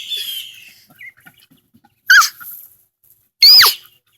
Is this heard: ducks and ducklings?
yes